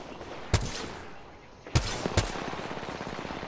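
Gunfire in the Apex Legends video game, a few sharp distant-sounding shots and short bursts over a background of game ambience.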